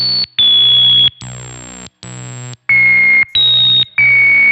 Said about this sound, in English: you can hear that the sample and hold generator is choosing a random frequency every time I hit the note